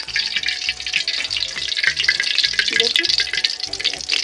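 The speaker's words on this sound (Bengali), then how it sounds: "এই ল্যাংচাগুলো তেলের মধ্যে দেবো।" Biscuit langcha sweets sizzling as they are dropped one by one into hot oil, a steady bright frying crackle with bubbling throughout, close and fairly loud, with a brief spoken word over it.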